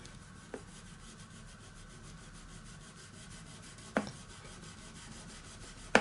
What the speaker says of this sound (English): So what I do is I put a little bit of polishing product right on the fret.